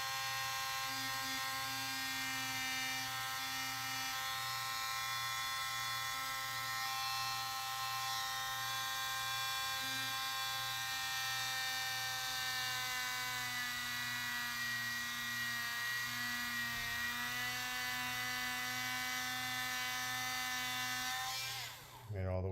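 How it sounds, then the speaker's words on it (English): A thin drill bit boring through the elbow of a Mezco Green Arrow action figure, a steady high motor whine with a stable pitch that holds for the whole stretch before it stops abruptly at the end. "we're going to just go ahead and we're going to drill a hole all the way in"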